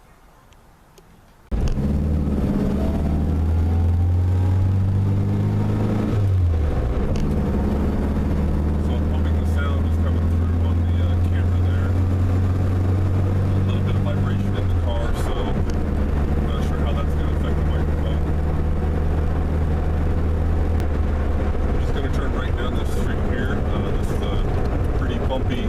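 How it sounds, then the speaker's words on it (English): Car with newly installed Silver Mine Motorsports coilovers on a test drive over a bumpy road, a steady loud engine and road rumble from inside the cabin with rising and falling engine tones throughout. "I'm going to take it for a quick test drive and see how it goes."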